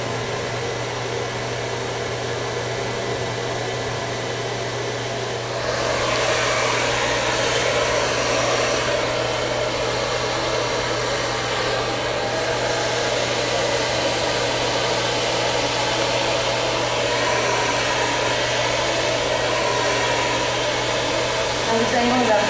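Hair dryer blowing continuously while hair is brushed with a paddle brush, a steady loud whooshing whir that grows louder partway through as the airflow shifts.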